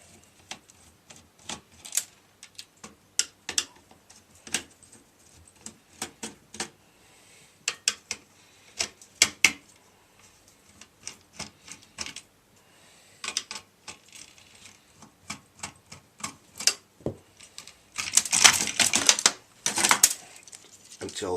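Small metallic clicks and taps come in irregular bursts as screws are taken out of a TV power board salvaged from a trashed set, close up, with a denser cluster of clatter near the end.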